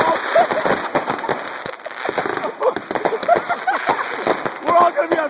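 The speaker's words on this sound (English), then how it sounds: "Notice how Billy has had to walk near the fireworks" Fireworks go off at a birthday celebration in a dense run of sharp crackles and pops, close and loud, while people talk and exclaim over them.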